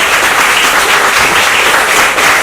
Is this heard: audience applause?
yes